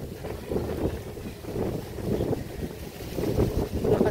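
Strong typhoon wind buffeting the microphone on a small street, gusty roaring rushes that swell and fade in uneven waves, loud and close.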